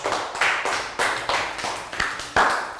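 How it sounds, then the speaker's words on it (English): A class of Year 3 pupils claps for a classmate in a maths lesson, with about seven evenly spaced, crisp hand claps close by at a steady beat and no talking over them. "Round of applause for Nadia."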